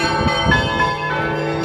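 Church bells ring out at the Alekseevskie Perezvony bell-ringing festival, a steady, resonant peal with overlapping tones sustained throughout, loud and alone with no voices.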